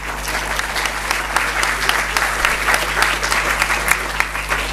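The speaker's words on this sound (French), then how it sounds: "Il faut les applaudir maintenant" Audience applause after a political speech at a party's federal council meeting, a steady, dense clapping from a large crowd that holds level throughout, with no voices standing out.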